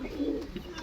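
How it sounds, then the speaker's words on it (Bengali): A single short, low coo from pigeons kept in a loft, close and fairly soft, with no talking. "দেখো আমার লফটের আজ কিছু কবুতর আপনাদেরকে দেখাচ্ছি।"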